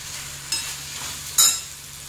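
Fried guar beans and potato are folded into a cooked onion-tomato masala in a pan. A low sizzle runs underneath two sharp scraping stirs of the spoon.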